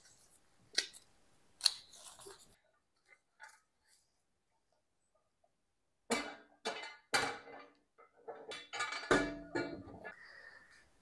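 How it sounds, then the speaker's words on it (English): Tape being pulled, torn and pressed over holes in a scrap-metal blacksmith forge build, heard as scattered crisp rips and taps with a long quiet gap, then a denser flurry of tearing and crinkling near the microphone. "I'm going to take some tape and plug these holes."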